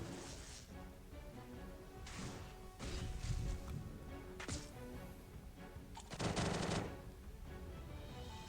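Gunfire in a video game, with bursts of rapid, loud shots and sharp impact cracks over several seconds under a continuous game soundtrack.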